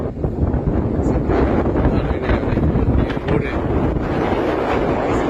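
Strong wind blows by a roadside in the foothills of the Western Ghats, a steady loud broadband rush with gusty surges that buffet the microphone throughout.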